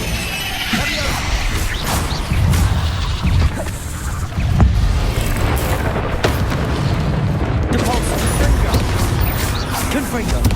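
Bombarda explosion spells from Hogwarts Legacy go off in a string of deep booms and crashes, with whooshing bursts layered over game music and effects throughout.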